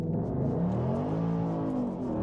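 A Ford Mustang sports car engine revs up close on a rainy day, rising in pitch and holding a steady, throaty roar before easing slightly.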